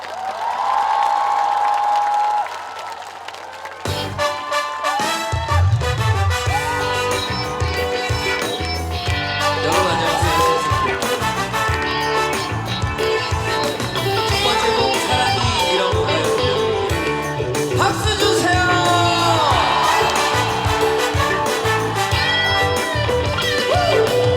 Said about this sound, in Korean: 여러분 큰 박수로 맞아주세요